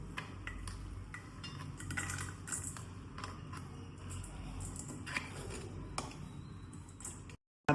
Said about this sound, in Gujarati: તો આ બની ગયું છે તો હવે આપણે 1 બાઉલમાં કાઢી નાખીશું આ રીતે.